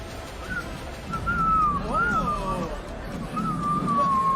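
A person whistles short rising and falling melodic phrases over a steady hubbub of crowd chatter at a red carpet film premiere, with a brief pause between the phrases.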